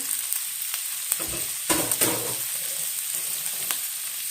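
Cabbage sizzles steadily in a hot pan with garlic, a continuous close frying hiss broken by a few louder crackles and stirring scrapes, with no talking.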